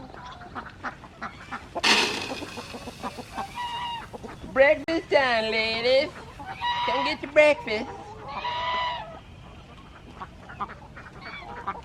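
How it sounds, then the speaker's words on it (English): Farm ducks and chickens at morning feeding time, a busy, close chorus of quacking and clucking in bursts while a woman calls out to the birds. "the first order of things is to feed the ducks and chickens."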